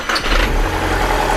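An Audi TT engine cranking and catching after a battery charge, a short starter whir that rises into a loud, steady idle close by.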